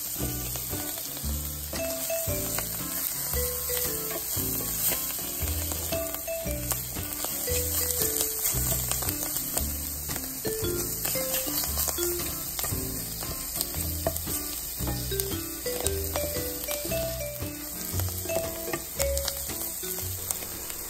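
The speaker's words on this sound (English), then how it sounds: "Now that the vegetables are sauteed to perfection, I would like the mushrooms to be just a little more charred" Vegetables and mushrooms sautéing in a hot pan for homemade spaghetti, a steady dense sizzle with frequent clinks and scrapes of stirring throughout, close and fairly loud, no talking.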